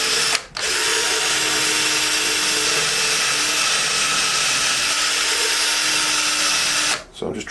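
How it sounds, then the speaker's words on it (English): A power drill bores slowly into a wood blank for woodturning, running as a loud, continuous close whine for several seconds before stopping at both ends. "So I'm just drilling very lightly,"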